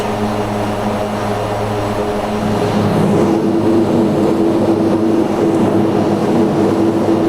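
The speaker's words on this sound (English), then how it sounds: "just a little bit of reverse and ground idle, just get the airplane stopped at no problem." Steady, loud engine roar of a Mitsubishi MU-2B-60 turboprop in reverse thrust and ground idle after touchdown in a flight simulator, a continuous rumbling drone that swells slightly partway through.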